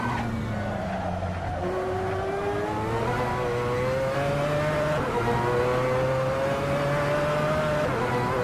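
Race car engines in a realistic online racing simulator, a convoy of cars following closely, loud continuous revving with rising and shifting engine pitch throughout, no talk.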